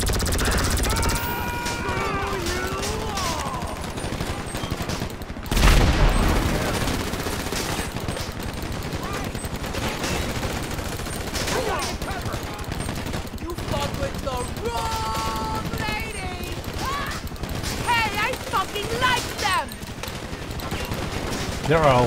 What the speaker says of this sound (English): Just keep blind firing until they fall down.